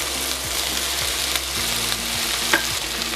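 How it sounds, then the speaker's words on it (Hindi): Chicken and sweet corn fry in a pan over medium heat, a steady close sizzle with bursts of stirring and scraping, and one sharp clink near the end. No one speaks. "अब इसको मैं फ्राई कर लूंगी"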